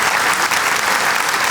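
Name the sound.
audience applause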